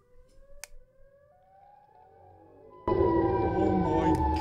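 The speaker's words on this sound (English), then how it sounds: "I hear sirens." A siren in the Siren Head video game wails faintly with a slowly rising tone, then a loud, dense, droning blare cuts in and holds.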